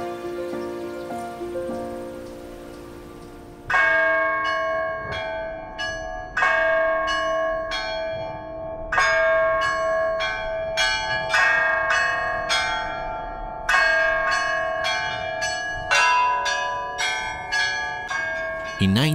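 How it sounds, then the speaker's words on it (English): Church bells of the Kizhi pogost ring out after a soft opening, a bright repeated peal of several bells struck in rhythmic clusters, each strike ringing on with long resonant tails, loud and close. "the bells were installed in belfries of churches and chapels in the Kizhi area"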